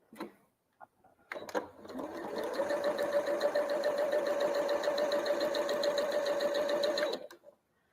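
A sewing machine chain pieces quilt pieces in one continuous fast whirring run of about five seconds, close and steady, bracketed by a few handling clicks and taps before and after.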